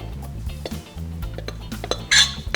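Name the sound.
mixing icing sugar with egg and almonds in a bowl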